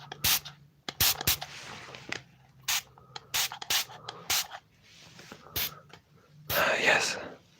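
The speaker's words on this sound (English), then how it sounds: "Now it's time to get sprayed." Bursts of spray bottle mist, a series of short hissing spritzes with pauses between them, close and crisp in a quiet ASMR setting, ending in a longer, denser spray.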